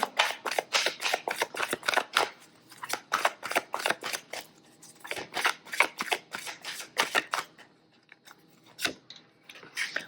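Tarot cards from a small oracle deck are shuffled in quick, crisp bursts of riffling flutters that pause and restart, close and clear with no talk.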